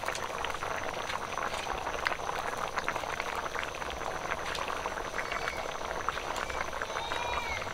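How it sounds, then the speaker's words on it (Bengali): Fish curry broth boiling in a pot, a steady close bubbling and popping that runs evenly throughout with no talk. "ঝোল ফুটে গেছে"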